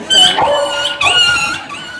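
Village dogs bark and yelp close by in a couple of sharp, loud bursts that trail off into whiny, strained calls.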